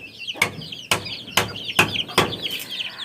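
Chickens cluck in a short run of about five sharp, evenly spaced calls, close by, with faint bird chirps between them and no talk.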